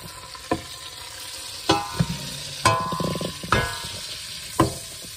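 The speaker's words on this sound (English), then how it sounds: "Mix it with the spoon." A spoon stirs melted butter in a pot for pink rice crispy treats, producing a handful of distinct scraping knocks against the pan over a faint sizzle, with no talk.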